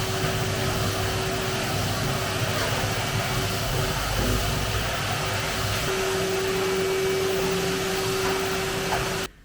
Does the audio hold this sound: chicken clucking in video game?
no